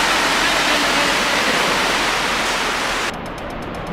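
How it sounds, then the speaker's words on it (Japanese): Waves surging in a wave pool make a loud, close, continuous broadband wash of rushing water that holds steady for several seconds before dropping slightly, with no voices heard over it. "波来た"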